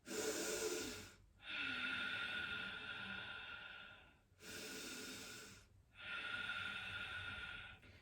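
Slow, deep yoga breathing in child's pose with the forehead on the mat, heard as close, airy inhale and exhale cycles in a steady rhythm with short pauses between breaths.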